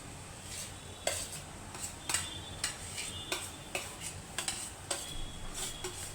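A utensil scrapes and clinks against a metal wok in irregular strokes, stirring a beetroot and carrot mixture for Bengali vegetable chops, with a faint sizzle underneath and no talking.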